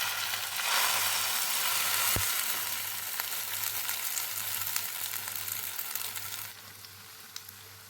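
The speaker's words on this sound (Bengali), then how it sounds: "এবার এই ডিম আলুর মিশ্রণটাকে আমি কড়াইয়ের মধ্যে আস্তে করে ঢেলে দেব।" Egg and potato batter hits the oiled wok with a loud, steady sizzle that eases slightly over several seconds, with a brief clink of a utensil midway; no voices.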